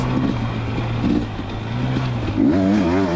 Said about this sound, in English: Back out riding dirt bikes.